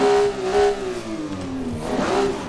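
An 800 HP Toyota Supra revs in neutral, loud and close, its engine note rising and falling in a wavering sweep.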